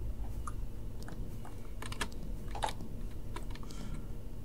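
Keys clacking on a computer keyboard during a Minecraft session, scattered quick taps in irregular bursts, fairly close but quiet under a steady background hum.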